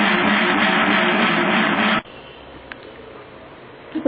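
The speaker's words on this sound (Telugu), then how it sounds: "కొద్దిగా మెత్తగా గ్రైండ్ చేసుకోవాలి." Mixer grinder whirring loudly as it grinds coconut chutney, a dense steady roar for about two seconds that then cuts off abruptly, leaving near silence.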